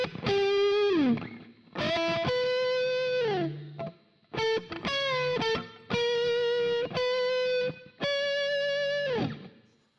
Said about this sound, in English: You can add a little bit of reverb on that.